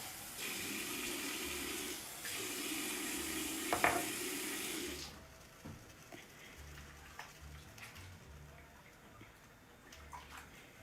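Water runs into a pot on the stove while natural egg dye is made with yellow onion skins, a steady loud rush for about five seconds, then quieter kitchen clatter.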